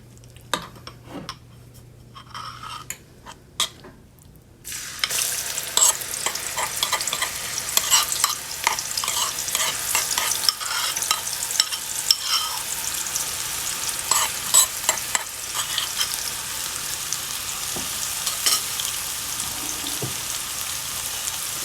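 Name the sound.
curry and masala frying and being stirred in oil in a pot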